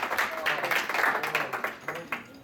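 Scattered audience clapping at an anime convention game show, a fairly brisk patter of hands that thins out toward the end, with a little talk mixed in.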